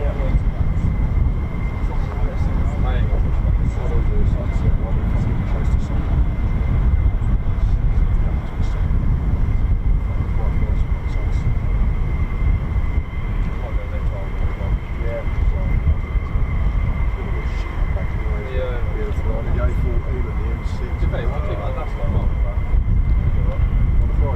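F-15 and F-35 fighter jets at RAF Lakenheath produce a continuous, loud broadband engine roar, a steady rumbling drone that holds without break for the full stretch.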